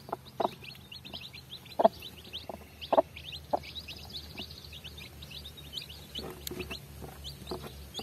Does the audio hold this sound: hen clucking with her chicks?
yes